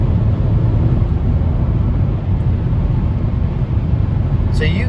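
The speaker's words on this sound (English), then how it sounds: "So you can hear the engine, but there's no drone or anything like that." A 2023 Hyundai Elantra N with a manual gearbox cruises at highway speed with its exhaust in quiet mode: a steady low engine hum sits beneath loud, constant road and wind rumble inside the cabin, without drone.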